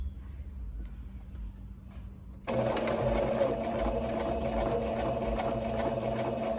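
A Brother PE800 embroidery machine starts up partway through and sews a back stitch, a steady close mechanical whirr and rapid needle rattle running loud and alone after a quiet start.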